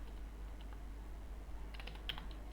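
Soft computer keyboard typing, a handful of light key taps clustered near the end over a quiet steady hum, faint and close, with no voices.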